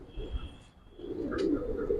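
Giribaz pigeons cooing nearby, low rolling coos that swell toward the end over faint background noise, with no talking.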